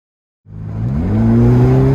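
After a moment of silence, the turbocharged engine of a 2021 Ferrari Portofino M roars to life and revs steadily upward, loud and close, its pitch climbing smoothly.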